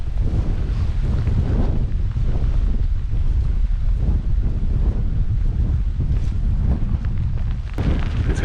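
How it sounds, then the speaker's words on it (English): Strong gusting wind buffets the microphone on an exposed tidal island during a storm of sideways rain and hail, a loud, continuous roar with rumbling low buffeting and no voices. "Really windy as well."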